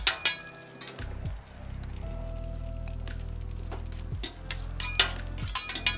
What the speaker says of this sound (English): And then let's go ahead and throw in some butter.